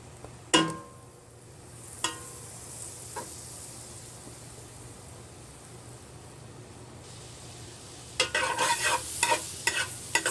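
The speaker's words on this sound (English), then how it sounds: "you're just gonna let it melt." Butter melting in a pan for Trini corn soup gives a steady, soft sizzle throughout, with a few sharp clicks early on and a burst of louder crackling spatter near the end; no talking.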